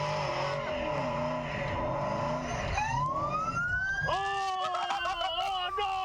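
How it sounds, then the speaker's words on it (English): A police car siren wails at an Australian car meet, rising in sweeping tones over a rumbling engine and the hiss of burning tyres, then switching to a faster yelp in the second half. "Seconds after he starts, the police sirens go on."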